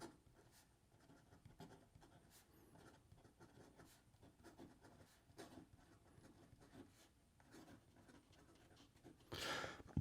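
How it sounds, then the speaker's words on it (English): An Onoto Magna Sequoyah fountain pen with an 18 karat gold nib scratches softly across paper in short strokes and pauses, faint and close, with a louder rub near the end. "here we go with the rest of the writing sample."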